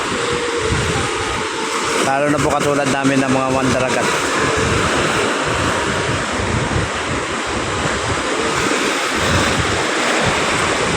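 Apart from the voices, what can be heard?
sea waves on the Manila Bay shore at Navotas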